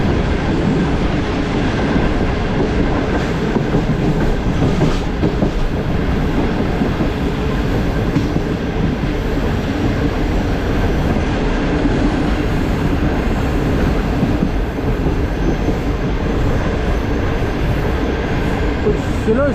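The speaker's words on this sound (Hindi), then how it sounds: "कुछ स्लो स्पीड्स में थ्रो पास कर रही है जम्पी रेलवे स्टेशन को" A passenger train, the Karakoram Express, rolls slowly through Jumpi railway station with brakes applied, giving a steady, loud rumble of wheels and carriages with faint rail squeal and clatter throughout.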